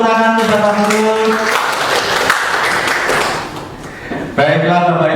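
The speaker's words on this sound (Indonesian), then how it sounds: "Boleh tepuk tangan untuk Bapak Putut." A group applauds a teacher during a teachers' session, a burst of clapping lasting about three seconds that briefly fades, with voices talking over it before and after.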